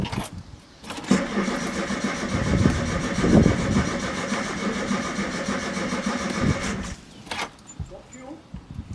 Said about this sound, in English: It's quite an experience starting an old vehicle.